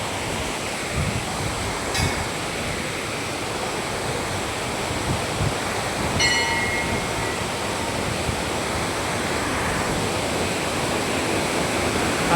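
Fast, high water rushing past close by at the Panchalingeswar temple, a loud, unbroken roaring wash that holds steady throughout, with no voices.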